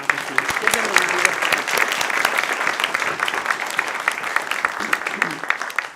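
A church congregation at a Sunday service gives a warm, sustained round of applause, dense clapping throughout with faint voices mixed in.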